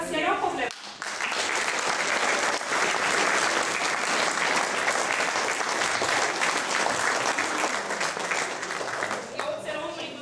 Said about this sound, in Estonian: kõige suurema aplausi on ära teeninud lapsed